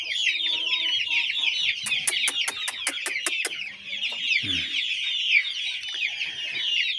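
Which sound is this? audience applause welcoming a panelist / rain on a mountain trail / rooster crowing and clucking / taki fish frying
rooster crowing and clucking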